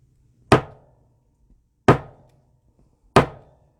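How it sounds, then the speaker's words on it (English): Three sharp hammer strikes land at an even, unhurried pace, each a hard, close knock that dies away quickly into silence. "I'm going to take my hammer and I'm just going to hold it down and then bang it"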